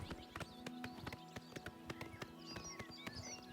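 Horse hooves clip-clop in a quick regular rhythm as a rider travels in Oblivion Remastered, crisp and close, with faint bird chirps in the background.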